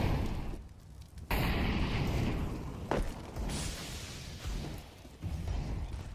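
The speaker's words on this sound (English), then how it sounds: "Oh, that could be a good nade. It's decent, 40 damage." A grenade explosion in the video game CS:GO, during a professional Virtus Pro vs Mousesports match on the Cobblestone map: a sudden loud blast followed by rumbling, noisy game ambience with further smaller bursts.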